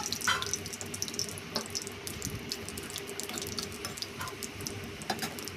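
A dried red chilli and whole spices hitting hot oil for tempering: a steady close hiss of sizzling with scattered small pops and crackles throughout, alone without speech.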